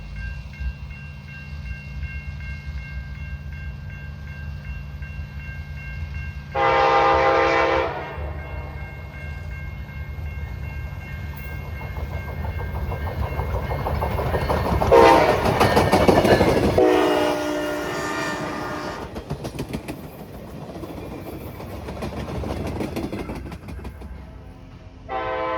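Amtrak Piedmont passenger train on a main line near Charlotte, led by a CCU cab car with an F59PH locomotive on the rear, rumbling past with two loud horn blasts over steady rail noise.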